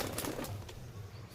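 Pigeons beat their wings in a quick flurry as they are released from a loft of high-flying Jira and Kaldum birds, a soft, close flapping rustle over about a second.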